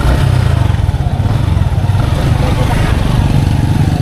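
Motorcycle engine running steadily at idle, close and loud, with a constant low rumble and light mechanical clatter throughout and no noticeable revving.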